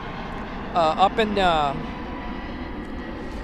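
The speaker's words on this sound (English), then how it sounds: "another plane passing by" A plane passes by overhead as a steady, broad engine rumble that runs through the whole clip, with a brief stretch of talk partway through.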